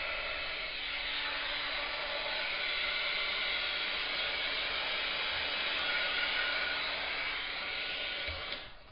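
A handheld heat dryer blowing over a freshly stamped card, a steady close whooshing hiss of airflow lasting several seconds before it cuts off near the end, with no voices.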